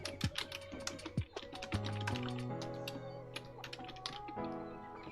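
Computer keyboard typing, a close run of quick irregular clacks that continue through the clip, fairly faint against a low background.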